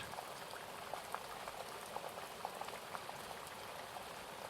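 Steady rain falls in a soft, continuous patter with scattered drops ticking on a surface, even and unbroken from start to finish at a low, distant level.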